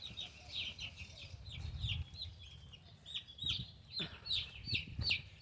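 Wyandotte and golden sex link baby chicks peep in rapid, high chirps close by, almost without pause, over low muffled bumps and rustling.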